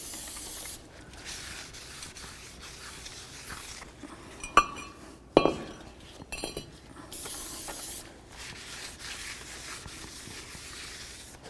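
Brake cleaner sprayed from an aerosol can onto the braking surfaces of a front brake rotor on a 2008-12 Chevy Malibu, heard as long steady hissing bursts with a few sharp metallic clinks in a quiet gap between them.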